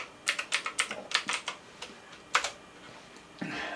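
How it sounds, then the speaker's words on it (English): Password typed on an Apple Silicon Mac computer keyboard: a quick run of distinct key clicks in short bursts with pauses, fairly close and clear, with no talking. "we need to type in our other password"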